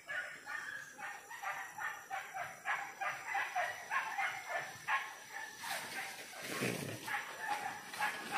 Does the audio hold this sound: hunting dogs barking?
yes